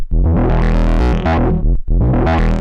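Loud Moog Mavis synthesizer chords heavily processed by a glitchy deconstruct effect algorithm, stuttering and breaking apart across two bursts.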